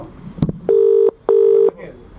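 Telephone keypad dialing: a brief click, then two clear electronic tones, each about 0.4 seconds with a short gap between them, loud and close.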